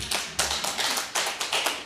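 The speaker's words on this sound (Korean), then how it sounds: "이야, 우리 박수 한번 쳐드려요" Scattered hand claps from a church congregation honouring an elderly member during a sermon, a few sharp irregular claps in quick succession, close and moderately loud with no talking over them.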